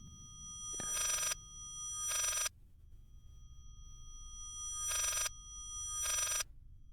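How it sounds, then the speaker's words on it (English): A telephone ring played backwards in the horror game Layers of Fear, sounding as four evenly spaced trilling bursts that swell and then cut off abruptly, with silence between them. "It is a phone ringing backwards, isn't it?"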